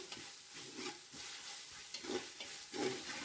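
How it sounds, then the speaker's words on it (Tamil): Mint and a handful of coriander leaves sautéing in a pan for chicken dum biryani, with a steady soft sizzle and occasional stirring scrapes, faint and close, no talk. "1 கைப்பிடி அளவுக்கு மல்லித்தழை, இது ரெண்டையுமே சேர்த்து நல்லா வதக்கிடுங்க"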